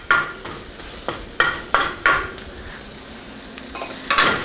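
Bell peppers flash-frying with garlic and onions in a hot pan, a loud close sizzle broken by about eight sharp scraping stir strokes at uneven intervals, no voices.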